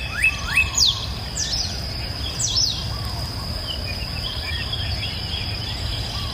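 Cartoon birds chirp in a Hindi children's story about a mother bird and a tree to be cut down, with several bright, quick chirps early on and a thin high insect-like whine continuing over a low background rumble.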